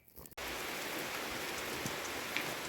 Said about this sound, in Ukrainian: Подивіться, який чарівний дощ